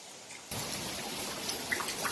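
Rain falls steadily on Koh Tao, Thailand, after a quiet start, a dense even hiss with occasional brighter drops and splashes.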